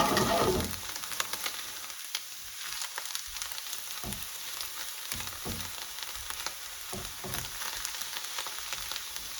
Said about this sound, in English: just cook that for a couple of minutes, and we're going to add the prawns in there